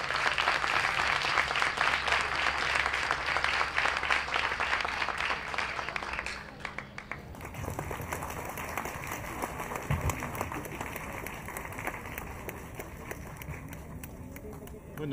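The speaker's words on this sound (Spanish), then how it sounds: "Un fuerte aplauso, por favor, para el profesor" Audience applause for a professor at a lecture on violence, education and health in Peru, dense clapping for about seven seconds, then thinning into scattered claps and room noise, with voices mixed in.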